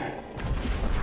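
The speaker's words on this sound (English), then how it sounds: "Explosions!" Explosions in the video game Obduction, a dense, rumbling, crackling burst of blasts that starts at once and stays loud for the whole moment, with a heavy low-end roar.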